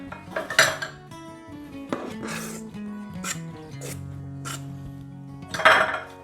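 A metal muffin pan clatters and scrapes on a kitchen surface while Runeberg torte is being made, with several sharp metallic knocks and clinks spread across the clip and a loud clank near the end.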